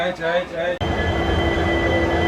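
An Indian Railways train hauled by a WDG diesel goods locomotive moves off with a steady low rumble and rolling rail noise, close and continuous. Speech comes first, then an abrupt cut into the running train sound.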